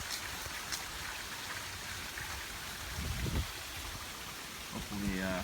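Steady rain falls outdoors during a severe warned thunderstorm, a broad even patter with a soft rumbling swell near the middle and a brief faint sound at the end.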